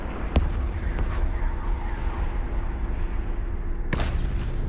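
Two sharp blasts from space combat in EVE Online, one early and one near the end, rise over a steady low hum of ship ambience during a mission.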